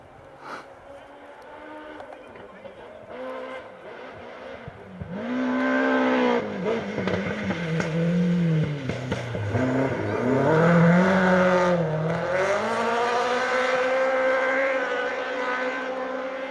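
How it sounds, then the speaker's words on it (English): A rally car engine approaches and passes on a Welsh Rally Championship stage in North Wales, revving hard and shifting through gears, rising to a loud roar before easing slightly; some crowd noise underneath. "you can listen to the engine of this car sing its way through the stage."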